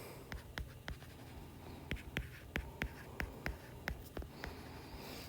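Pen or pencil writing by hand on paper during a chemistry unit-conversion worked example, a run of quick close scratchy strokes and taps in a quiet room with no talking.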